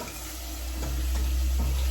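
A soft, steady sizzle as mung beans fry in hot tempering oil rises gradually over a low background hum, with no one speaking.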